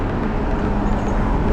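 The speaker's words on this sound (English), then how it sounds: "Let's wait for this truck." A truck passes on a city street in Santiago, Chile, a close, steady broadband roar of engine and tire noise filling the whole short moment.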